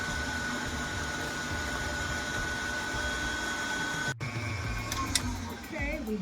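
A mixer on medium-high whirs through a sour cream key lime pie filling, a steady buzzing motor drone that cuts out briefly, then resumes unevenly with softer clinks and movement near the end.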